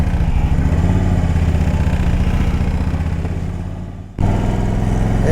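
A 2008 Harley-Davidson Road King touring motorcycle with the 103 engine idles and runs steadily up close, its deep rumble easing and dipping briefly before returning at full strength.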